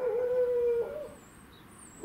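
A dog howls in one long steady tone for under a second, close by in a backyard garden, then a quieter whine follows with faint background noise.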